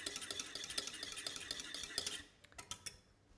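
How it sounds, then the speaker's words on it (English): Egg yolk whisked into a sauce in a pan off the heat, a quick run of light metallic clinks and scrapes that slows to a few scattered taps, quiet and close. "So just turn it off completely, drop it in, and then whisk it."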